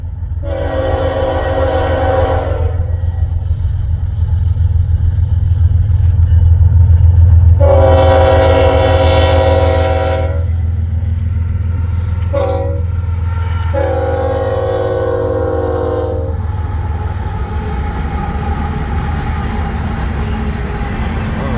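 An eastbound Union Pacific train coming off the Blair Sub toward the Boone Sub at Missouri Valley sounds four loud horn blasts, the third very short, over a steady low rumble of the passing train.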